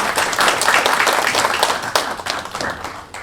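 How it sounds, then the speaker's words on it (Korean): An audience at a university ceremony, the launch of Suncheon National University's Glocal University project and its network council, gives dense, steady applause that stays loud throughout and fades slightly at the end. "다시 한번 박수 부탁드리겠습니다"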